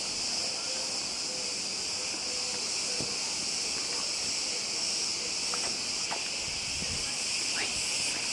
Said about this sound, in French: Mettre un peu moins fort le son des cigales.